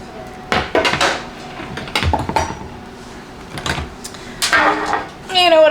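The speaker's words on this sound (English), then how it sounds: "let's get this roasting pan over here" A metal roasting pan being moved and set down in a home kitchen, giving several clattering knocks and scrapes in separate bursts, fairly close and moderately loud.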